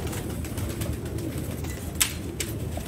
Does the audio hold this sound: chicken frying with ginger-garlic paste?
no